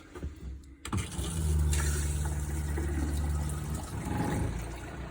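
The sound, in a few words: water running from a faucet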